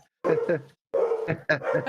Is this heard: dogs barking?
yes